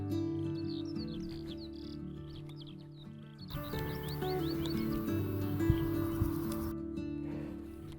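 A skylark sings outdoors in a continuous twittering, warbling stream of high chirps, moderately distant over a low steady hum, with other birds faintly mixed in.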